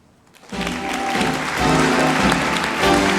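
An audience at an anniversary evening gala bursts into applause after a brief quiet start, the clapping swelling and staying loud and dense, with some voices mixed in.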